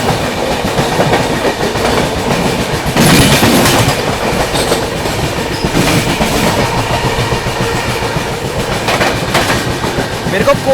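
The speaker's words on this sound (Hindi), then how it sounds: "यहाँ पर अपनी ट्रेन मथुरा जंक्शन स्किप करने जा रही है" Aboard the 22221 CR Rajdhani Express as it runs through Mathura Junction without stopping, a loud, steady rumble carries rhythmic clickety-clack from the wheels, with a few sharper clattering bursts and a voice talking underneath.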